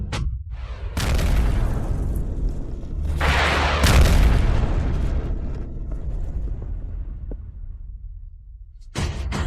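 Heavy artillery fire in a war drama: a deep boom hits near the start, a second louder blast follows around the middle, and both leave long rumbling roars that fade slowly, with another sharp hit at the very end.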